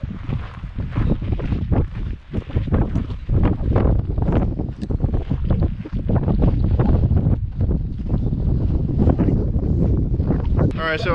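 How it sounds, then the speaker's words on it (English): Strong gusts of wind buffet the microphone in heavy, rumbling blasts, loud and continuous, with a voice talking underneath, outdoors on a clear day while hiking in California. "it's very windy today, very, very windy"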